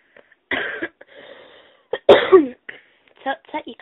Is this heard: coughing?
yes